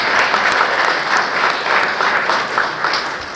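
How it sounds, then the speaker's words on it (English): Audience applause at a government panel on improving citizen experience, honoring three speakers; steady, moderately loud clapping from a mid-sized crowd that pulses slightly and tapers a little toward the end. "Let's give Donnie, Lance, and Mitch another round of applause."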